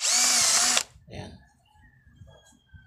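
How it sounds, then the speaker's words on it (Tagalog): A cordless impact drill whines loudly at high speed for under a second, then stops, followed by someone talking nearby. "Maayos mga boss ang ating impact drill cordless"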